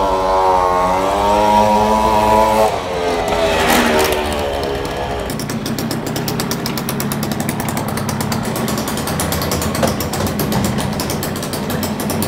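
Tuned Piaggio Ciao moped engine warming up on a dyno, a loud close two-stroke buzz that climbs and dips in pitch, then settles into a harsh, rapidly pulsing rattle at steady revs.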